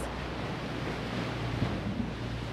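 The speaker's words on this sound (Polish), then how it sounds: "Ten ocean, który widzisz tutaj za mną." Ocean surf washes in a steady, low roar, mixed with gusty wind buffeting the microphone and no voices.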